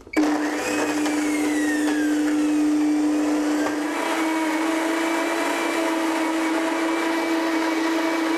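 A kitchen blender grinds pesto sauce at high speed, a loud continuous motor whine with a steady pitch that shifts slightly partway through, running alone without talk.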